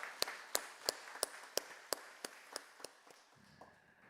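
A church congregation at a Korean Sunday evening service claps in encouragement, about a dozen crisp claps in a steady unison beat. The claps fade out, leaving a low murmur.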